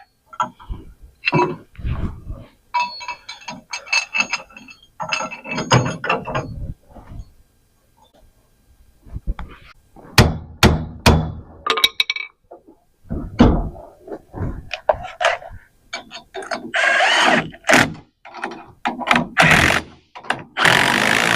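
Trailer leaf springs being cinched together with a tightening strap, giving a series of close, uneven ratcheting clicks and metallic clunks in irregular bursts, with no speech.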